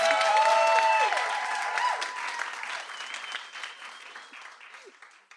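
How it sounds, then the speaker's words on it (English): An audience applauds at an author reading in a bookstore, a loud burst of clapping that gradually thins and fades over several seconds, with faint voices and whistles mixed in. "Let's give Emma one more round of applause."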